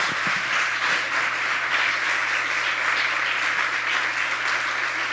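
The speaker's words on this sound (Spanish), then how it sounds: "Aplauda a Jesús." A Spanish-speaking church congregation breaks into dense, steady applause during a Sunday service. The clapping fills the space evenly from start to finish, with a low hum beneath it.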